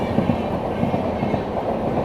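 A Howrah–New Delhi Poorva Express, train 12381, rolls past close by with a steady rumble of railcars and faint rhythmic clatter from the wheels, no voices over it.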